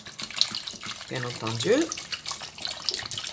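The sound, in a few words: tap water running onto beetroots in a pot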